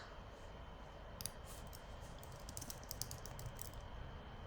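Light typing on a computer keyboard, a soft scattered run of quick key clicks over a faint steady background hiss, fairly quiet and with no voices.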